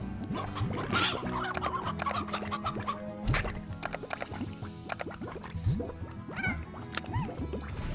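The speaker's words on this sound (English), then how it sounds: "Okay, so let me grab this chicken here." Chickens clucking in the video game Slime Rancher, several fowl with repeated chirpy clucks over a steady background hum and some gurgling, continuous and close.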